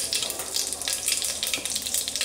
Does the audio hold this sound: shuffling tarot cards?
no